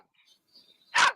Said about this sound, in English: So this is the famous dog as well that keeps attacking me